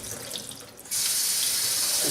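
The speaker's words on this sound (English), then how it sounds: "Just use your running tap water" A kitchen tap is turned on, and steady running water then pours loudly and continuously to cool boiled boba pearls, with no voices.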